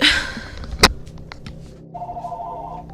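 A telephone rings near the start, with a sharp knock partway through, followed by fainter ringing tones and a sustained electronic tone toward the end.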